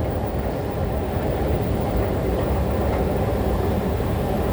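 Loud, steady rumble of a Bangkok underground metro train in motion, filling the whole stretch with continuous low roar and no talk.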